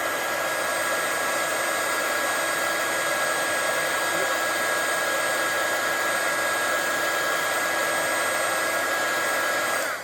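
Heat gun blowing steadily on embossing powder, a loud, constant close-up whoosh with a faint steady whine throughout.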